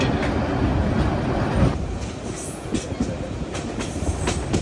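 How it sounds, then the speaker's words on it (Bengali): The Korotoa Express passenger train rumbles along with a continuous broadband roar and rattling carriages, heard from on board with occasional sharp clacks from the wheels. "এই মুহূর্তে আমাদের ট্রেন প্রবেশ করছে তুষভান্ডার স্টেশনে"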